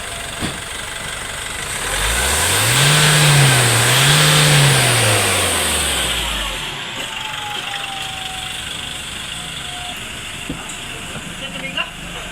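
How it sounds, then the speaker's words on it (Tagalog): A Nissan Navara pickup's diesel engine, low on power with a dirty turbo, EGR and intake, revs up with a rising, wavering roar that swells and then falls away, over steady background noise, with faint voices nearby. "So dito makinig tayo sa engine."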